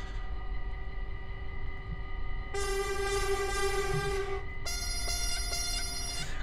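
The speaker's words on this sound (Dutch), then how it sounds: "Klinkt wel hilarisch, dat kleine toetertje" A small train horn in Train Simulator 2015 sounds in steady tones over a low rumbling engine, then changes to a higher, brighter blast, with a short break and a final series of toots; no talking.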